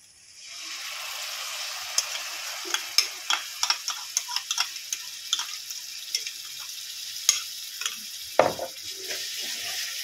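Tomato paste, Kashmiri chili powder and spices frying in a pan for potol korma: a steady close sizzle with repeated sharp spoon scrapes and clicks from stirring.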